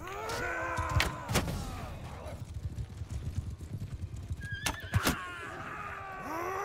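A horse whinnies loudly near the start of a Mount & Blade II: Bannerlord battle, then galloping hoofbeats and battle noise follow, with another sharp whinny near the end.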